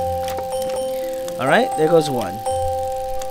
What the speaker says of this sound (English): Three bells and you gotta shut them the hell up.